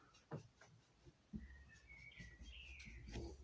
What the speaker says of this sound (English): I can hear those pigeons again, and I can hear the other birds twittering in the trees.